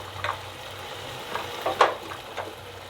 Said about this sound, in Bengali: এবার আমি এটাকে একটু কষিয়ে নেব।